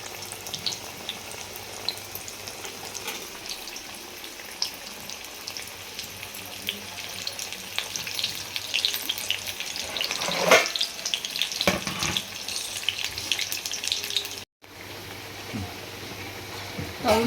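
Alu vadi, rolled colocasia leaf slices, fry in hot oil with a continuous close sizzle and crackle, bubbling louder in spells and marked by occasional stirring clinks.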